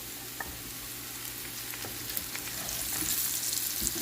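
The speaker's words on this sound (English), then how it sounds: "I have quartered some portobello mushrooms and throw those in." Quartered portobello mushrooms fry in beef short rib fat, giving a steady broadband sizzle that slowly swells louder, broken by a few small pops and crackles, with no voices.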